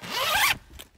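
A single quick zipper pull on the fabric of a 4WD pop-up car camper tent, close and loud for about half a second, followed by faint rustling.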